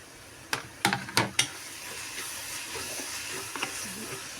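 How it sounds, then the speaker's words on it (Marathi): Tomatoes with bitter gourd and crushed garlic sautéing in a pan, a steady low sizzle with a quick burst of four sharp spatula scrapes early on, then gentler stirring sounds, close and alone. "टॅमॅटो बारीक होईपर्यंत आपण परतून घेणार आहोत"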